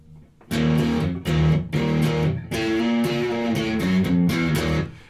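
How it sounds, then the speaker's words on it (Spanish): An electric guitar runs through an amplifier's distortion channel, with sustained overdriven chords struck in short rhythmic bursts, loud and close with no talking. "acá está el canal con distorsión"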